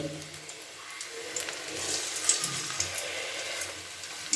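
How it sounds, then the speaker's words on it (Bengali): Helencha leaf fritters (bora) fry in hot oil with a soft, steady sizzle and faint crackles, fairly quiet and close, joined by brief kitchen clinks. "এইভাবে সমস্ত বড়াগুলোকে আমি ভেজে নেবো"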